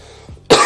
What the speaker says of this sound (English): I got over my cough, but I think, I don't know, I breathed wrong.